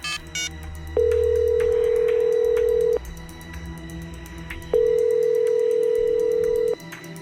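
Two long, steady telephone tones, each about two seconds, separated by a pause, loud and close over a faint low background hum.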